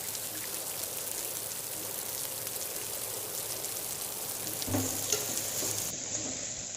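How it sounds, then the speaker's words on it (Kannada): Onion, curry leaves and green chillies frying in oil in a pressure cooker for coconut rice, making a continuous close sizzle with a few louder spits and stirring scrapes near the end. "ಈಗ ಈರುಳ್ಳಿ, ಕರಿಬೇವಿನ ಸೊಪ್ಪು ಮತ್ತು ಹಸಿಮೆಣಸಿನ್ಕಾಯಿ ಇದು ಇಷ್ಟನ್ನು ನಾನು ಕುಕ್ಕರ್ಗೆ ಸೇರಿಸ್ಕೊಳ್ತಾ ಇದ್ದೀನಿ."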